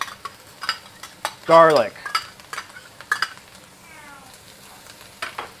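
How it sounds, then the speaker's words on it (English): Beef with ginger and scallions being stir-fried in a wok, a loud burst of sizzling and scraping stirs up close, with a cat meowing and a person talking intermittently around it. "Gets a little smoky when you stir fry."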